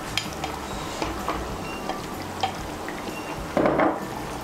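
Fried eggs drop into a boiling masala curry gravy in a pan, starting from a steady bubbling sizzle and ending in a brief louder splash and spatter near the end.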